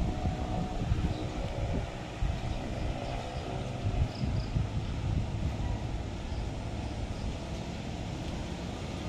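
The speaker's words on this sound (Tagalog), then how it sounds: "Malakas pa rin ang hangin." Strong typhoon wind roars continuously in low rumbling gusts, buffeting the microphone with steady loud noise and no voices.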